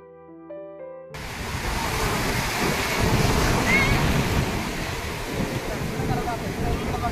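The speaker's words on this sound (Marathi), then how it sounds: "समुद्राच्या खवळलेल्या लाटांचा आवाज" Rough sea waves crash and roar on Diveagar beach, a loud continuous broadband surge with wind buffeting the microphone, rising after a brief quiet start.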